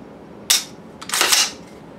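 A pistol trigger clicks sharply during dry-fire practice, followed a half second later by a longer snap of the mechanism resetting. Both sounds are close and crisp, with no talking.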